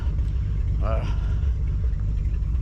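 A 1950 Chevrolet Deluxe rolls along during a brake test, its engine and road noise a steady, loud low rumble throughout, with a brief voice rising over it partway through.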